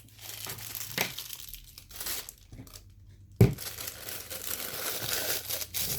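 A plastic icing bag from a unicorn cake kit crinkles and rustles as it is handled, with soft intermittent crumpling, a sharp thump midway, then continued close crinkling.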